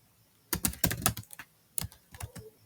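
Code is typed on a computer keyboard, two quick clusters of close, crisp key clicks separated by a short pause.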